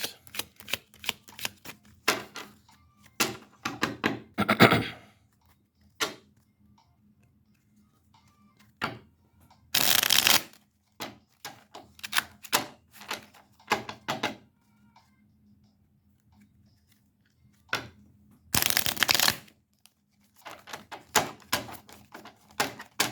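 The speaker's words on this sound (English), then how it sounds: "It's hard to even shuffle it." A deck of tarot cards being shuffled, with bursts of riffling and flicking separated by pauses, several loud dense riffles standing out among lighter clicks, with no talking.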